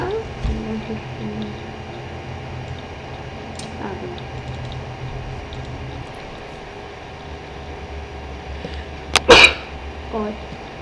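A single sharp sneeze near the end of a mostly quiet stretch during Far Cry 3 gameplay, loud and close, with low game ambience running underneath.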